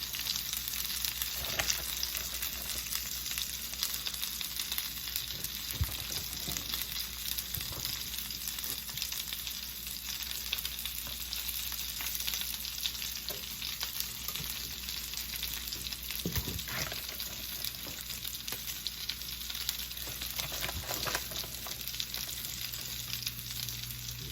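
Coconut shrimp fry steadily in a pan, a continuous broadband sizzle holding for the whole stretch, with a few soft clinks and stirring bumps and no voices.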